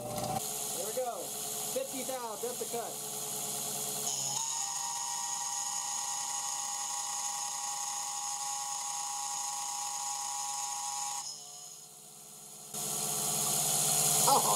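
A MAXNC mini mill spindle at 9,000 RPM cutting a 50 thou deep pass, a steady loud high whine holding for about seven seconds after some brief talk at the start, then dropping away before the spindle noise returns.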